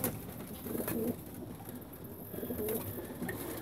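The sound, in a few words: racing pigeons cooing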